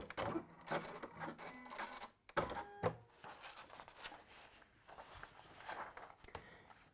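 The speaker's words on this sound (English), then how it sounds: "That is what a triple stitch does. So it just goes back and forth on itself a lot." A sewing machine runs a triple stitch for bag making, its needle working back and forth over the same line in a busy, uneven mechanical rattle with short pauses, fairly close and without talk.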